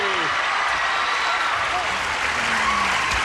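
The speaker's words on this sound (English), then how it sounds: "A round of applause for our stars." A 1983 television game-show studio audience, Match Game-Hollywood Squares Hour, breaks into loud, sustained applause for the celebrity panel, a dense unbroken roar of clapping with voices faintly audible underneath.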